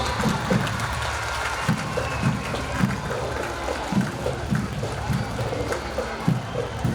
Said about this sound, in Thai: ขอเสียงปรบมือต้อนรับไฟกีฬาสีครับ